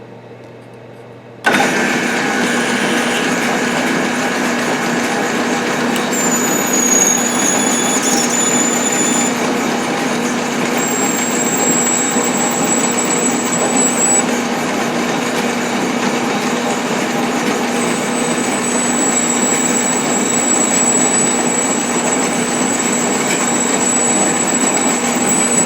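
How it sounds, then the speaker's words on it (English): A drill fitted with a larger bit bores into metal on a hydraulic press build, starting abruptly and then running as a steady, loud grinding whine, with occasional squeal as the bit cuts. "now we'll put a larger bit. We'll attempt to drill it out in 3 steps."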